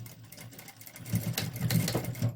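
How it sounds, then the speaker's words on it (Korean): A sewing machine stitches a quilted vest, sewing down a button area in an X pattern. It starts as a soft hum, then runs up nearby in quick, busy bursts of mechanical stitching. "이렇게 해서 재봉틀로 박는데"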